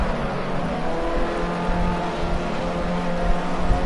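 Formula C race cars accelerate into a chicane, their engines producing a dense, loud, steady roar with slight pitch shifts as the cars push through the corner, with no talk.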